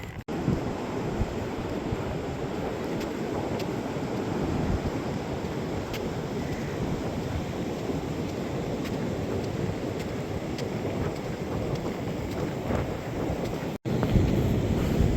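Strong wind buffets the microphone on the Oregon coast dunes, a loud continuous rushing roar with gusty low rumble throughout and a brief dropout near the end.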